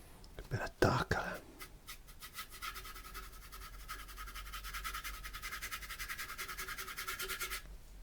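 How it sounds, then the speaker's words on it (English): A paintbrush loaded with acrylic paint scrapes across gesso-primed canvas in a steady, close, rhythmic scratching that keeps going for several seconds after a few louder opening strokes. "You can hear the gesso that I put on the canvas."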